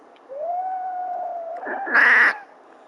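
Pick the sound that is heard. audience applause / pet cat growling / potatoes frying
pet cat growling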